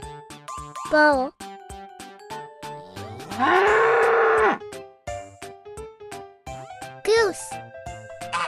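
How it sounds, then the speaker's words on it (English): A bull on a farm lets out one long, loud, sustained moo in the middle of the clip, set against light children's music with short sound effects before and after. "Bull."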